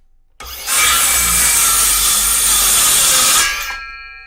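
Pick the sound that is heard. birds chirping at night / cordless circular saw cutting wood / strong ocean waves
cordless circular saw cutting wood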